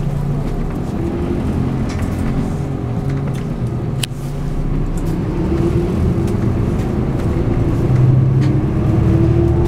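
A Yokohama municipal Nishi Nippon Shatai non-step city bus pulls away with its engine droning loud and steady, rising slightly as it accelerates, heard from inside with a brief click partway through.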